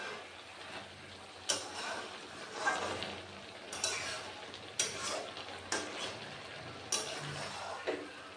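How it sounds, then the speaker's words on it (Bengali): A utensil knocks and scrapes against a cooking pan at irregular intervals as pumpkin pieces are turned during cooking, soft and close over a faint background hiss. "ঢাকা দিয়ে দিয়ে সবজিটা বেশ কয়েকবার নাড়াচাড়া করে নিয়েছি"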